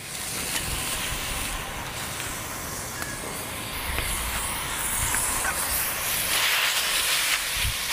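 Mutton being fried for a shenwari-style dumba karahi in its own rendered fat, with no oil, giving a steady broadband hiss and sizzle throughout, fairly close and continuous, with no talking.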